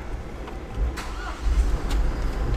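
A Hyundai EX8 GLT seven-ton truck with a stainless steel cargo body starts up, a low diesel rumble swelling in short surges as the engine catches, heard close from the cab.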